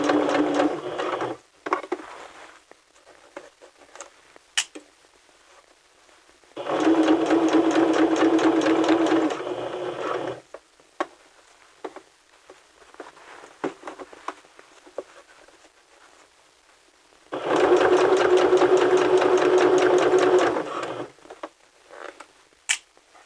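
A sewing machine stitches a seam in two long, even bursts of rapid mechanical whirring separated by quiet pauses, with a few faint clicks and short stitches in between and no talking.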